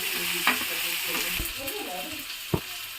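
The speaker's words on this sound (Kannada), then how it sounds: "ಈರುಳ್ಳಿ ಮಾತ್ರ ಚೆನ್ನಾಗಿ ಫ್ರೈ ಆಗಬೇಕು" Onions sizzle in hot oil in a pan for a home-cooked field bean curry, with a steady frying hiss broken by scraping stirs and two sharp spatula knocks against the pan.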